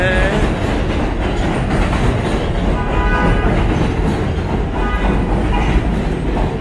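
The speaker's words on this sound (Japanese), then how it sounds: "問題はこの地下鉄のうるささですけど" A loud subway train rumbles and clatters past, wheels clacking and faintly squealing, drowning out the street near Filipino restaurants in Woodside.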